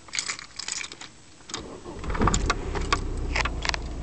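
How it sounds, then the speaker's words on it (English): A car engine catches after the ignition is keyed and settles into a steady low running rumble, preceded by a few clicks and rattles of the key and starter. "As you can see, the engine does run."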